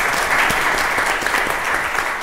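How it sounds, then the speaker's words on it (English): An audience at a talk on education equity applauds steadily, a dense even wash of clapping with no voices over it. "So let's give her a round of applause."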